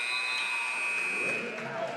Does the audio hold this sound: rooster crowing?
no